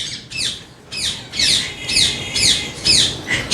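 A pair of yellow ringneck parakeets squawks at a Sunday bird market in Bahawalpur, giving about seven harsh, loud calls in quick succession with no voices.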